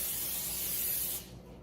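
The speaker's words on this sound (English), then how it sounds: "so now you need a 9 by 13 pan, and you want to spray this" Cooking spray hisses steadily from an aerosol can into a 9 by 13 cake pan, one close continuous burst that cuts off near the end.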